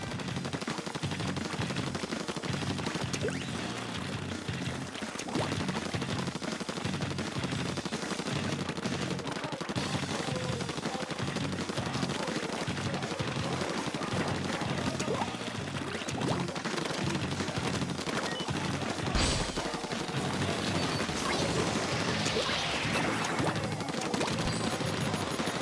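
Constant weapon fire and explosive bursts from a Splatoon match, including a cluster bomb, form a dense, steady barrage of rapid shots and blasts that stays loud throughout with no speech.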